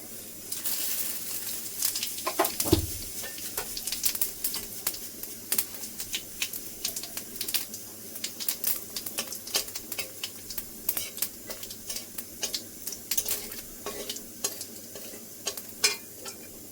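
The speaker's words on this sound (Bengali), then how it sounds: "তেল গরম হয়ে গেছে, দিয়ে দেবো একটু চিনি, ফোড়নে দিয়ে দেবো শুকনো লঙ্কা, তেজপাতা, জিরে" Dried red chillies, bay leaf and cumin with a little sugar crackle and sizzle in hot oil, a steady close frying hiss broken by sharp pops and occasional stirring clinks.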